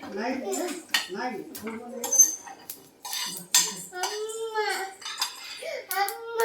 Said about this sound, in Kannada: ಇದನ್ನ ಇವಾಗ ಒಂದು ಪ್ಲೇಟಿಗೆ ತೆಗಿತಾ ಇದ್ದೀನಿ.